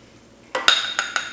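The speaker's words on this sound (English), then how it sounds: "we're just going to stir this up a little bit" A utensil stirs melting butter in a pan for a cheese sauce, giving a few short scraping and sizzling strokes after a quiet start, close and fairly loud.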